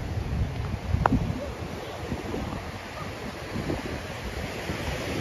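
Waves wash onto a shell-covered beach at Balneário Camboriú, a steady, broad surf hiss with wind noise against the microphone. A faint brief tick rises near the start, and no voices are heard.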